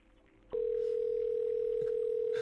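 Steady telephone dial tone from the video game Lobotomy Corporation, switching on abruptly after a brief quiet moment and holding one continuous, loud electronic pitch to the end, with faint background sounds beneath it.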